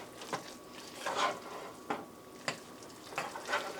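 A homegrown egg frying directly on ramen noodles in a pan, giving a soft, low sizzle with a few brief clinks and scrapes as it cooks, fairly quiet and with no talking.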